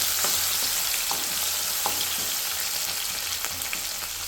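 Tomato, onion, mustard seeds and curry leaves fry in hot oil in a pan for egg masala curry, giving a steady, close sizzle with faint crackles and pops throughout.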